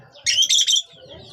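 Pet birds call in a short, loud burst of three quick squawking chirps close by, with faint background rustle before and after.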